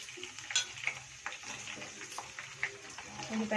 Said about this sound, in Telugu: వేయించుకోవాలి ఉల్లిపాయలు బాగా.